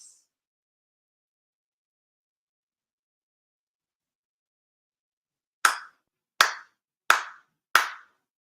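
Four sharp ceremonial hand claps at a Shinto shrine ceremony, evenly spaced and ringing crisply after a long stretch of silence, each one short and distinct.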